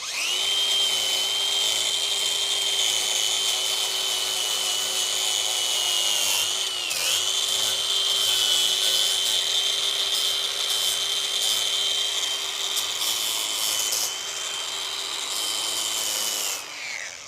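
A power tool grinds steadily along the edge of a wooden slab being prepared for an epoxy river table, a loud, continuous high whine with brief dips in pitch as the tool bites, close up throughout.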